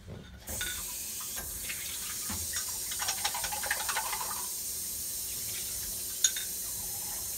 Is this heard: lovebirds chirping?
no